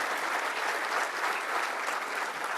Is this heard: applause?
yes